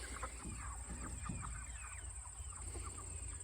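Chickens cluck in a farm cage, a steady scatter of short calls at moderate distance over a constant low hum and a high-pitched electronic whine.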